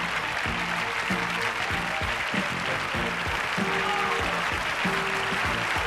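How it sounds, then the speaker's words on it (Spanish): Studio audience applause on a 1991 Spanish television game show, a continuous wash of clapping throughout with music playing underneath. "Un aplauso y nos vamos para allá."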